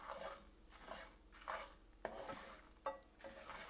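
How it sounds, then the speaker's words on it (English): Spice ingredients are stirred while roasting in sesame oil in a pan, a faint soft sizzle under intermittent scraping of a spatula against the pan, with a few sharper metallic clinks. "So I'm roasting all the ingredients in a 2 teaspoon of sesame oil, like this."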